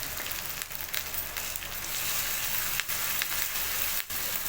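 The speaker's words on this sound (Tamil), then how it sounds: "இது கூடவே நான் கருவேப்பிலை கொஞ்சம் சேர்த்துக்கிறேன்." Curry leaves with a ground ginger and onion paste frying in a pan, giving a steady, dense sizzle that runs the whole time at moderate loudness with no talking.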